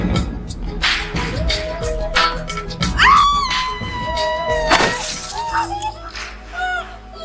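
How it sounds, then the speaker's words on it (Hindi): A person screams in a dramatic film scene from Krrish (2006), a rising wail cutting through crashing, shattering noise and overlapping voices, loud and close over several seconds. "चीखो मत"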